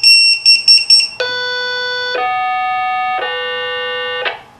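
A tBeacon GPS radio beacon gives a few quick high beeps, then a series of long steady electronic tones that step between pitches, clean and loud with no speech.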